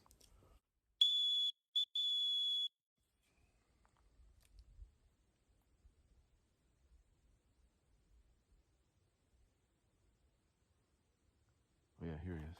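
A whistle is blown outdoors to call a dog across a field: three shrill, steady high blasts close by, the first two short and the last longer, followed by quiet rustling, with a voice at the very end.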